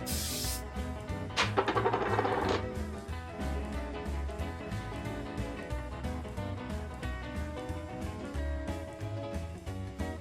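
Hairspray is sprayed onto hair pinned in victory rolls. Two soft, short hissing bursts come early, quiet against continuous background music.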